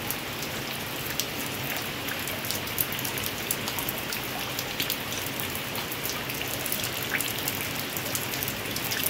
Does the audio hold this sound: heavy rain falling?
yes